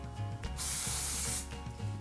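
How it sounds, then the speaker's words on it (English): Hairspray hisses from an aerosol can onto hair in one sustained, close burst of about a second, framed by quieter rubbing and handling sounds. "I was gonna use the hairspray as well."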